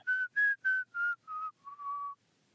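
A person whistles a short descending run of seven clear, loud notes close by, the first few crisp and separate, the last ones lower and held longer, ending in silence.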